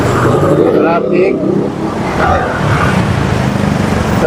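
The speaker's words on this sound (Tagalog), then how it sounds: "Traffic" Road traffic in Project 7 heard from a moving motorcycle, with car engines and passing vehicles rumbling steadily under close wind buffeting.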